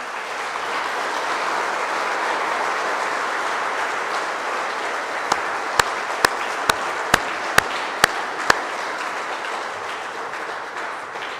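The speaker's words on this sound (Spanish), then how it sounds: "Denle un aplauso a Dios" Church congregation applauding during an evening Mass, a long sustained wash of many hands clapping that fills the room, with a few sharp isolated claps standing out near the end.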